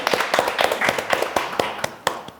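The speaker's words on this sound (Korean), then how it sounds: "박수 한번 할까요?" Scattered claps from a small audience at a Justice Party tenth-anniversary event, a dozen or so irregular hand claps close by, thin and brief rather than a full ovation.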